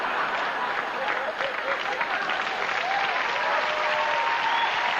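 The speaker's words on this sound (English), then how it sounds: "More applause." Steady, dense applause from a studio audience at a late-night television talk show, sustained at an even level for the whole stretch with a faint voice underneath.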